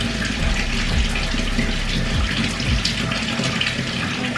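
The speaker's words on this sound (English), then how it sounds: "I'm gonna wet my hands to kind of activate this" Tap water pours steadily into a sink while hands are wetted beneath it, a close, full splashing rush with small shifts as the hands move through the stream.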